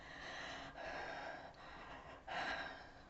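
Strained, labored breathing that works the shoulder, neck and accessory chest muscles, with heavy rasping inhalations and exhalations in a steady cycle, close and alone with no talking.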